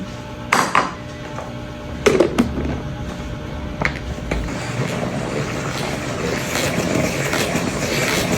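A salad spinner whirls shredded young coconut, starting with a few sharp plastic clacks as it is set and cranked, then building into a steady rattling spin that grows louder toward the end.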